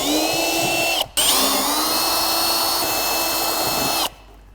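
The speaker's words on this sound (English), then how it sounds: "for the final drilling I'll go through the opposite direction." A power drill runs loud and close with a steady high whine, briefly stopping once, then drilling on before cutting out near the end, boring holes through a Honda Pilot bumper for fog lights.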